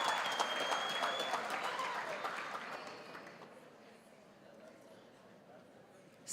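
An audience in a hall at a university graduation ceremony applauds in a dense burst of clapping that starts strong and gradually fades away.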